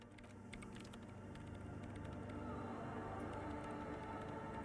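Keyboard typing in the video game Disco Elysium, a steady run of light clicks over a low ambient game drone, moderately faint and continuous throughout.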